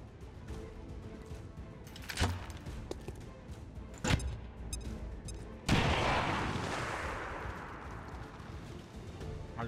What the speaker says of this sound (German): Werfe Granate!